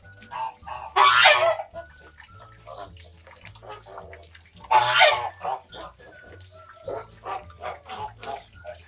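A young Kholmogory goose, about five and a half months old, gives two loud honking bursts before being weighed, with softer calls and low rumbling noise in between.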